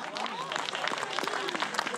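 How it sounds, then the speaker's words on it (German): Crowd applause for a band member at a live Fiesta Musica 2023 concert, a dense patter of clapping mixed with a voice talking over it. "Extra Applaus für Tim."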